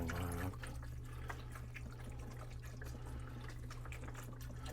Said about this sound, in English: It's starting to heat up, so I'm going to put my beef broth in.